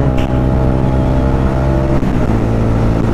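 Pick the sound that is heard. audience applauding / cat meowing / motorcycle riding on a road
motorcycle riding on a road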